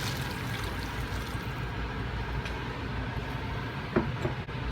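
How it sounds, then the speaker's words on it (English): Homemade chicken stock poured into a soup pot of tomato soup on low heat, a steady close splashing rush of liquid lasting several seconds, ending with a light clink. "I've made up about a pint of the stock mixture. Just going to add that in now."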